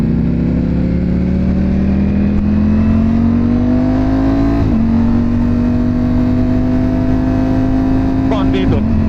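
A Ducati sports motorcycle engine revs steadily while riding, a loud continuous drone whose pitch rises gradually then dips briefly mid-way before holding, with people talking over it.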